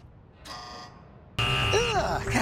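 Puzzle buzzer in the video game Control blares in two harsh bursts, a short tonal buzz followed by a louder, sustained electronic alarm with other game sounds sweeping through it.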